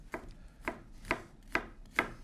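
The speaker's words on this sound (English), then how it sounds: "We're going to go ahead and julienne the peppers." A knife julienning peppers on a cutting board gives five evenly spaced, crisp chopping strikes, close and clear with no talk.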